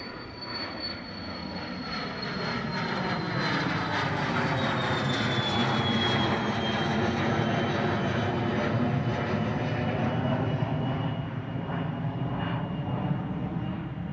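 A jet airliner departs from Dublin Airport's runway 28 Right with a loud, sustained engine roar that swells and holds steady, and a whining tone slides downward over the rumble.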